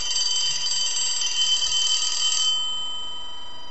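An old telephone's bell rings continuously during repair work, a loud, steady metallic ring that stops abruptly partway through and leaves a faint lingering hum.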